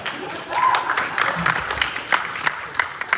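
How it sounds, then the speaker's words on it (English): Scattered clapping rises briefly in a room at a Republican Party district meeting, a short, uneven patter of hands with a voice speaking over it. "Thank you, Mayor Elizabeth, for those applause."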